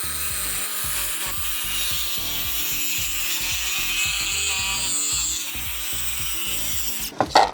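Hand saw cutting through wooden boards to halve them for a grill cart tabletop: steady rhythmic back-and-forth rasping strokes, close and loud, ending with a couple of sharp knocks as the piece drops.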